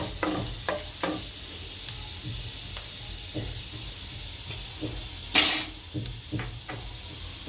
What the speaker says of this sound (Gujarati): આ 2 તજના ટુકડા, 2 લવિંગ, આને હલાવી નાખશું એટલે છડી જાય સારું।